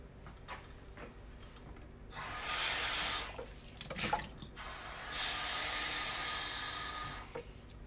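Cup of water poured into a pan while making Southern country fried apple pies: a few faint clinks, then a hissing splash of running water lasting several seconds, pausing briefly, then pouring again.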